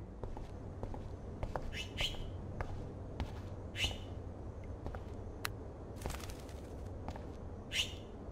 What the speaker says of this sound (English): that poor little bird has been trapped in here.